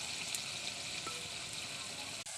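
Small chopped tomatoes frying in ghee with sugar give a soft, steady sizzle, quiet and fairly distant, with a faint clink near the end.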